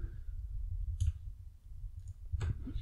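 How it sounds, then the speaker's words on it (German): Two sharp computer mouse clicks about a second and a half apart, close and crisp over a low background rumble. "und einem Mausklick gleich das Changelog öffnen"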